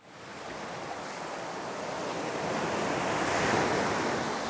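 Ocean surf on a beach rolls in as a broad, steady wash that swells louder and then eases slightly, close and continuous with no voices.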